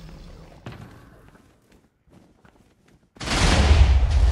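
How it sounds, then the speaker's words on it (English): An explosion goes off in the video game Minecraft: after a quiet stretch of faint game noise, a sudden loud, rumbling blast bursts in and roars on to the end. "Ouch, that was a hell of an explosion."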